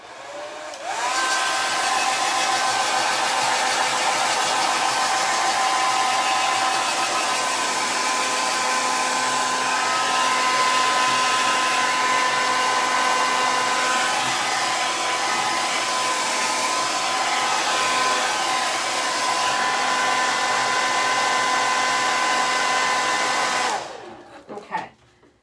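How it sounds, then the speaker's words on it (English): Blow dryer running steadily at close range for about twenty-four seconds while drying paint on an upcycled thrift-store fall decor piece, then cutting off at the end. "I'm going to hit it with the blow dryer just to add a little bit of extra dry to it."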